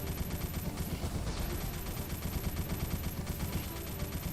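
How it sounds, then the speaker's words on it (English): In the video game MASS Builder, rapid automatic gunfire is fired into dirt as a continuous, evenly spaced stream of sharp shots, loud and close, with a brief pause midway and no talking. "Let me just waste a few rounds into it."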